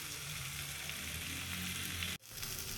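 Whole cumin seeds fry in a hot pan for a tomato-onion chutney, giving a steady, close sizzle with a brief dip near the end before the crackling resumes.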